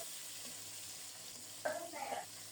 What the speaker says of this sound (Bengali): এদিকে পাবদা মাছগুলো খুব সুন্দর মতো ভাজা হয়ে যাচ্ছে